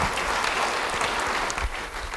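Congregation applauding at a church sermon, a dense, steady wash of clapping from many hands that holds at an even level throughout, with no talk over it.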